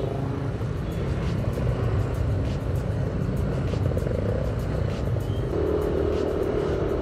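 Steady street traffic in a jam under hot sun, a continuous low engine rumble and road noise with vehicles idling and creeping nearby, no clear voices.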